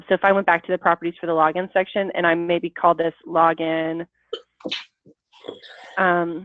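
A single short sneeze comes from someone nearby during a pause in a person's steady talk, and the speech then picks up again.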